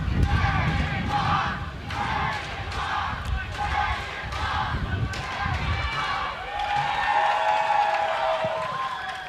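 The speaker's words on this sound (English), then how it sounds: "You hear the chants there, not coming from Pitt fans cheering at the Panthers goalie." Travelling Akron fans chant at a men's soccer match against Pittsburgh, a crowd of voices rising in rhythmic, repeated pulses that carry steadily across the stadium.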